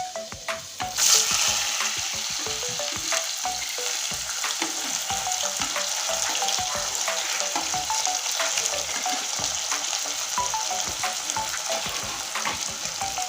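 Chopped onion fries in hot oil for a chicken and potato curry, giving a loud, continuous close-up sizzle with frequent light scrapes and taps of stirring throughout.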